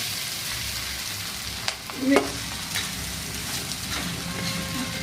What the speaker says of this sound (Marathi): आधी कुट टाकून देऊ आणि लगेच आपल्याला हे खिचडी टाकून द्यायची त्याच्यामध्ये